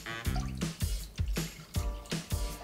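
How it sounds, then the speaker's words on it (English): Water and milk go into a kitchen pan for choux pastry, heard as a series of close, uneven liquid splashes and drips in bursts, loud and alone without any talking. "I have a pan, and to that I'm going to add in some water and some milk."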